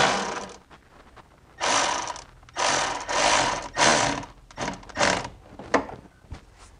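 Ring clamp being tightened on the catalytic converter of a 1999 Miata, a series of close ratcheting bursts of varying length separated by short pauses, with no talking.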